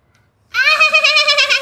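A person vocally imitates a goat's bleat, one loud, sustained wavering cry with a trembling tremolo, close to the listener, starting abruptly after a moment of near silence.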